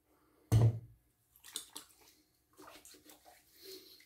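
Clubman bay rum aftershave is splashed from the hands onto the face: one sharp wet slap followed by softer patting and rubbing sounds, close and fairly quiet.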